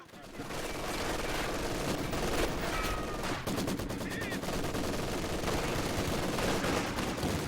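MG42 and Maxim machine guns trading fire in the strategy game Company of Heroes 2, sustained rattling bursts over a battlefield din with a commentator talking throughout.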